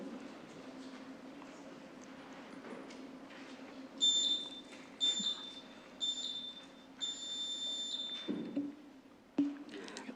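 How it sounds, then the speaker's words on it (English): A speaking-time buzzer at a council meeting gives a series of short, faint electronic beeps against quiet room noise. "If you can just wait for the buzzer,"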